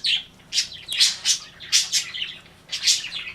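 Pet birds flying loose in a house squawk and chirp in short bright bursts, about five calls spaced irregularly, near and fairly loud, with no voices.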